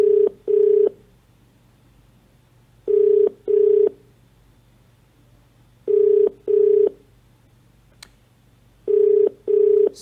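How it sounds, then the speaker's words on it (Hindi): An outgoing phone call rings out to a chief medical officer, each ring a pair of short buzzing tones separated by pauses, repeating four times clearly and steadily. "ये सीएमओ साहब को कॉल किया जा रहा है।"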